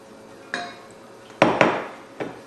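Metal utensil knocking and scraping against a mixing bowl while softened cream cheese is cut up, a few sharp clinks spaced irregularly and close by, with no talk.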